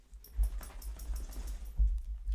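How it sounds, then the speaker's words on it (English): A dog shakes itself nearby indoors in two brief low flapping bursts, with soft rustling in between and no talking. "one of my dogs shaking there."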